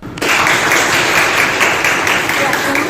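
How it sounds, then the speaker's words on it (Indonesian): Applause from a classroom of students during a teaching session, a dense burst of many hands clapping that starts suddenly and continues steadily and loudly for several seconds. "Tepuk tangan buat ke semua"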